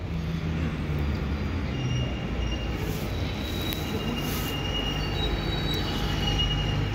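A Geneva TPG Lighttram passes close by with a continuous rolling rumble and high-pitched wheel squeal along the rails, steady and loud throughout.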